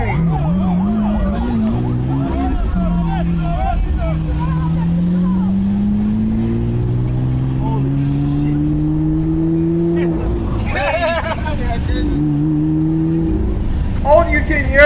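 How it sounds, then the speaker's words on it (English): A car engine hums steadily up close while its pitch rises and falls as it revs, with people talking over it. "All you can hear is the engine, bro."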